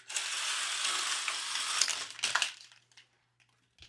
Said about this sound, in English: opening my windows, which are very loud